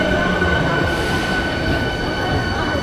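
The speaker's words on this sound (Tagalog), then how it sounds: "Ang ganda ng tren nila." An Osaka train rumbles steadily at a station, a continuous close wash of rail and car noise with a faint high tone running through it, unbroken for the whole stretch.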